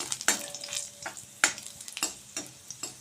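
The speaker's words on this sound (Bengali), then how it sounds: "এবার এগুলোকে খুব ভালো করে নেড়ে নেব। এগুলো একটু ভালো করে ভেজে নিতে হবে।" Garlic and a dried chilli frying in mustard oil, a soft sizzle punctuated by several crisp spatula scrapes and taps against the pan, close and fairly quiet, no speech.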